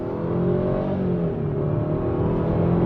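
A SAAB 9-5 Aero estate accelerates hard from a standstill toward 80, its engine giving a steady, loud, close droning roar from inside the car.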